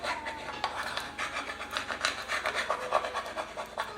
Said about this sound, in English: Once again, we're gonna burnish it down.